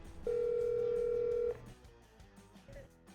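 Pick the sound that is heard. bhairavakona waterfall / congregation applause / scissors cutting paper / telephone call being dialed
telephone call being dialed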